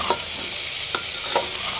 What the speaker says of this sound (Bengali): আরেকটু নাড়া চাড়া আরেকটু হালকা ভাজা হতে দিব এটাকে।